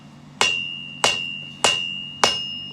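Four evenly spaced, sharp ringing hammer blows on metal at the edge of an anvil while forging a lid lifter, each strike bright and close with a short decaying ring.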